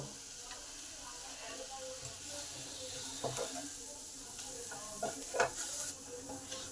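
Ground turmeric, chilli, cumin and coriander powders frying with tomato in a pan for an aloo potol curry: a steady low sizzle with occasional scraping stirs and brief clinks, fairly quiet and without speech.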